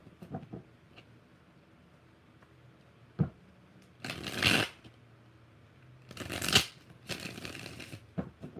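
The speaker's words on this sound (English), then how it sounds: "Two more shuffles." Tarot cards shuffled in three quick riffling bursts, close and crisp, separated by quiet pauses with a few soft taps.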